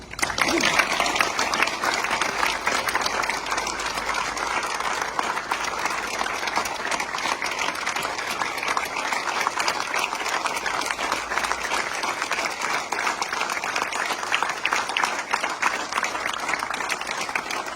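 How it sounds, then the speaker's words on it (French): Sustained audience applause at a gathering of French mayors in Cluses, dense steady clapping filling the room for the full length without pause. "moi je souhaite qu'on les applaudisse"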